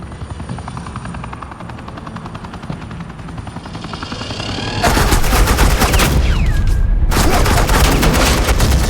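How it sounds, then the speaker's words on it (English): Suppressing gunfire erupts in the Batman Telltale video game, with a helicopter thrumming steadily before loud, rapid automatic bursts take over, break off briefly, then resume. "suppressing fire."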